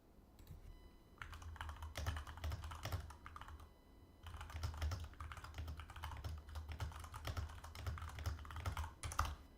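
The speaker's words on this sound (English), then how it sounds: "Sorry for the loud typing." Rapid clattering keystrokes on a computer keyboard, typed in bursts with short pauses, close and fairly quiet, no voices.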